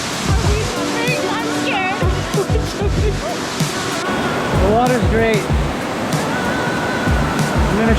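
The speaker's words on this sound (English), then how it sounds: "This is the top right through this waterfall." A waterfall in Bali rushes and splashes close by, a constant roar of falling water, while people talk and exclaim loudly over it throughout.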